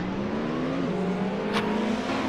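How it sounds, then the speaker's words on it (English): Two BMW race cars pull hard off the starting grid at a Satcar Revival race at Phakisa, a steady loud engine roar with a rising rev, nearby and without voices. "Watch those 2 BMWs coming out of the blocks, they will be quick."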